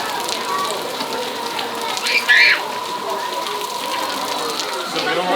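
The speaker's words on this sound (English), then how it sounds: "We don't like rain. Run for it." Heavy rain pours steadily at a Disney Halloween party at night, a dense continuous outdoor patter heard up close, with a brief louder splash partway through and people speaking underneath.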